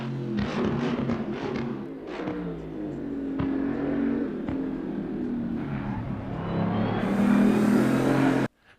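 Race car engine in a sim racing game at Silverstone, loud and continuous throughout, revving up and down through gear changes, the pitch rising strongly near the end before cutting off abruptly.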